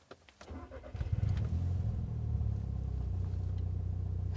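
A 10-year-old Volkswagen Golf MK6 R with a Milltek cat-back exhaust cranks briefly and catches, settling into a steady low rumble with a slight burbling exhaust tone.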